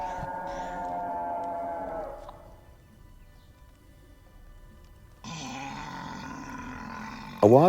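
Dinosaur roar sound effects in a Jurassic Park toy movie give a long, rough, growling bellow that fades into a low rumble, then a second loud roar bursts in and ends in a sharp shriek.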